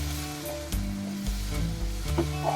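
Onion, garlic and masala with coriander and cumin sizzle steadily in a pan for a Kolhapur-style misal, a close, continuous frying hiss with a few soft stirring knocks and no talking.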